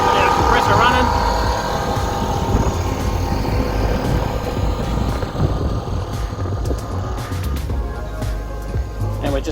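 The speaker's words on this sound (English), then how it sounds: "Got our compressor running." A generator and compressor run aboard a boat while dive tanks fill, making a loud, steady mechanical drone with a rough whine, joined by wind and water noise.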